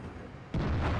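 A single loud tank gun shot booms in World of Tanks, a sudden heavy blast halfway through that rolls on as a sustained low rumble.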